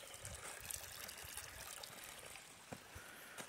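Water flows steadily in a mountain stream in the sierra, a faint, continuous trickling and burbling heard from a little distance.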